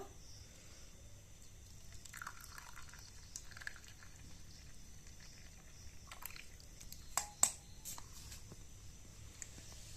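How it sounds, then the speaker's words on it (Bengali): Cumin tea strained through a strainer: a quiet trickle of liquid pouring and dripping, with soft clinks and a sharper splash or knock near the end, faint against a low background. "তা আমি এটা একটা ছাঁকনি দিয়ে ছেঁকে নেব"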